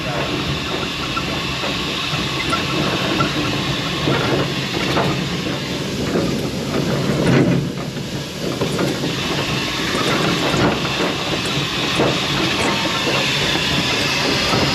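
Steam locomotive of the Pioneer Tunnel Steam Train working uphill under throttle: a continuous loud chuffing and hissing roar with rattling cars, heard up close from the cab.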